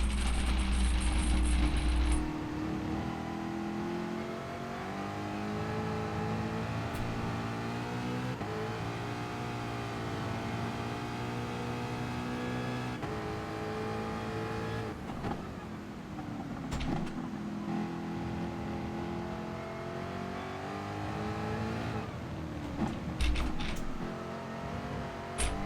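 A race car engine in Gran Turismo Sport on a wet track drones steadily throughout, with shifting pitch as it revs and eases through corners, mixed with spray and tire noise and brief louder bursts near the end.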